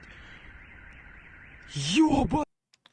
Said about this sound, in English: we can hear car alarms going off